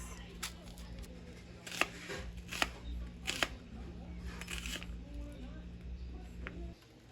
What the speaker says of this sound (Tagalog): hihiwain ko na itong ating puting sibuyas